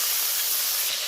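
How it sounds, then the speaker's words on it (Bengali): A fish head fries in hot oil, giving a dense, loud, unbroken hiss of sizzling, close and steady for about a second with nothing else heard. "অল্প অল্প করে ভাজলে তাহলে মাছটা ভাজা, মাছের মুড়োটা ভাজা বেশ ভালো হবে"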